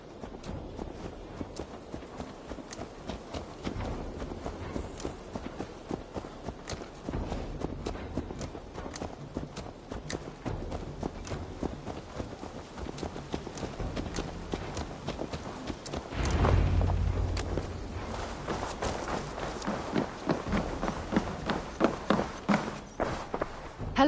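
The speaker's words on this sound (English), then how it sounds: "Let's return the horse." Horse hooves clip-clop at a walking pace in a video game set in a Viking-era world, a steady rhythmic plodding under music and ambient game sound, with a louder swell midway.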